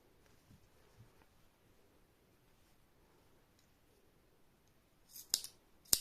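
Small scissors snipping a crocheted yarn Santa Claus beard to shape, two quick sharp snips near the end after a mostly quiet stretch, close and crisp.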